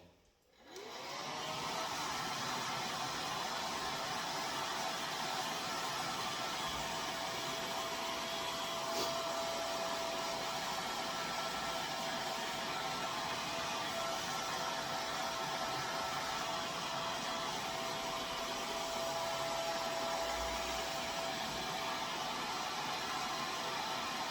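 A hair dryer blows steadily onto the corners of a BMW E46 M3 leather seat during interior leather restoration, switching on with a brief rise and then holding a loud, even whirring hiss with a constant motor whine throughout.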